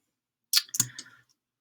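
A mouse click sounds while working in GitHub Desktop: two quick, close clicks, the second slightly fuller with a short rattling tail, heard alone against silence.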